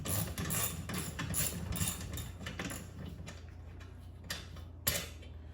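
Metallic clicks and ratcheting taps come from a tool working a shoulder bolt loose on a Minn Kota trolling motor base plate, a quick irregular series of close, quiet ticks that thins out toward the end.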